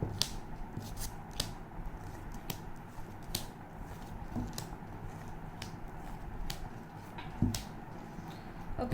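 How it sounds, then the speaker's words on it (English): Tarot cards being shuffled repeatedly up close, a series of crisp riffling snaps at an irregular rhythm against quiet room noise. "Last shuffle please. One last shuffle."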